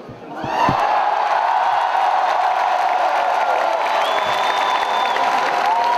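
A huge rally crowd of about 23,000 people in Lille roars and cheers, swelling from a few claps into a loud, sustained wall of voices and whistles that holds steady throughout.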